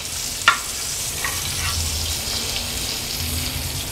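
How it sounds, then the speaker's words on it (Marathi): A pomfret fish fries in a pan over a low to medium flame with a steady soft sizzle, and a sharp clink of a utensil comes near the start. "मागची बाजू देखील 2 मिनिटांसाठी लो टू मीडियम फ्लेमवरच फ्राय करून घेऊया."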